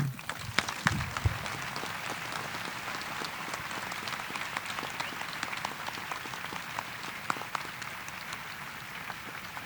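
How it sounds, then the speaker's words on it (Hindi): Sustained audience applause at a satsang, a dense continuous patter of many hands clapping at steady moderate loudness throughout, with no distinct voices standing out. "जोर से बजाओ भाई ताली."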